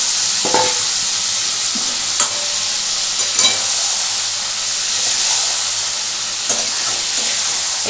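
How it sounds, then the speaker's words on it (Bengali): Kaikka (garfish) pieces stirred into sizzling onion masala in a pan, a steady close hiss of frying broken by a few scraping stirs of the spoon, with no voices. "দেখো এই অবস্থায় এসে কিন্তু আমি মাছটা পুরো এর মধ্যে মিশিয়ে দেবো।"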